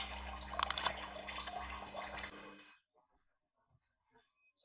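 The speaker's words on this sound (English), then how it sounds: "I'm going to wait until all the coolant has finished coming out" Coolant draining from the engine of a VW Passat 1.9 TDI 130hp 4MOTION, a steady close splashing trickle that stops abruptly partway through, leaving only a few faint drips.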